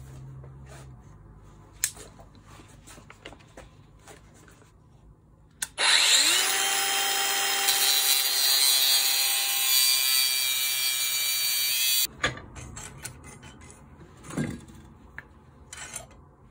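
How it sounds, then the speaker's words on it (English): A power cutting tool slices through a brass hose-barb nut on a steel fuel hard line. It gives a loud, sustained high-pitched whine of about six seconds, between quieter stretches of handling noise and clicks. "Last step is just to cut off the brass"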